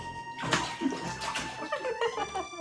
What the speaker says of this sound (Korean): 첨벙 첨벙